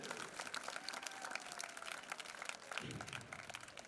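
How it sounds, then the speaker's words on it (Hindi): Audience at a Hindi speech event clapping, a faint, dense, continuous patter of applause heard from a distance throughout. "इनके लिए जोरदार और तालियां बजाइए"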